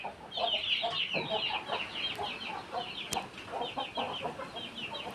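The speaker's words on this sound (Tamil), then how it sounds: "இதுதான் நம்மளோட பாரம்பரியமான கோழி." Traditional native chickens cluck and chatter close by at a farm, with overlapping short, repeated calls from several birds over a low background.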